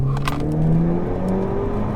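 Renault Megane 4 RS, a 330-horsepower hot hatch with a non-original aftermarket exhaust, accelerating in sport mode: a loud, steady engine drone with rising tone, heard from inside the car with no talking.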